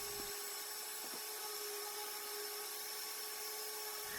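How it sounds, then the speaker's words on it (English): Power sanding of wooden pieces for a tree-shaped bookshelf with 100 grit sandpaper, a steady continuous whir with a couple of faint knocks, constant and moderately quiet throughout. "Then it was time for sanding. I started out with 100 grit and did all sides of all 11 pieces."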